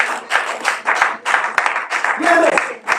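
A church congregation applauds in bursts of clapping and cheering, loud and close, with voices calling out and a single spoken word over the noise.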